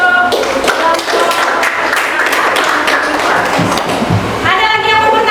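A classroom of students claps for a student group after its presentation, a brief dense burst of clapping mixed with scattered voices and taps.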